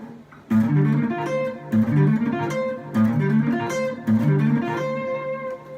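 A short melodic guitar phrase is picked several times over, each run starting with an accented attack, clear and close with no voices.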